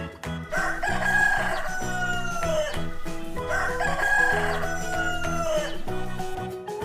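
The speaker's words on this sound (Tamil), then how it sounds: "rooster." A rooster crows twice, each a long loud cock-a-doodle-doo, with music playing steadily underneath.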